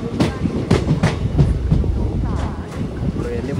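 Onboard an express train in motion, rhythmic clickety-clack of wheels over rail joints above a steady low rumble, heard from inside the carriage.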